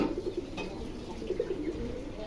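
Fancy pigeons cooing at a farm, a soft repeated coo in short rhythmic bursts, close by over a faint steady background hum.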